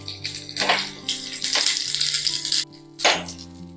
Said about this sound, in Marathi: थोडंसं तेल घालूया आणि हिरवी मिरची घालूया